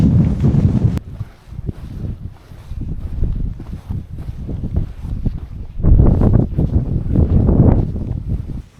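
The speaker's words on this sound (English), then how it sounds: "It's pretty windy up here." Strong gusty wind buffets the microphone on Wind Tor, a Dartmoor hilltop, with heavy low rumbling that swells and eases, loud and constant, with no voices.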